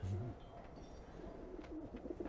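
Pigeons or doves cooing in the Alice: Madness Returns video game, soft low coos repeating at intervals over a quiet ambient background.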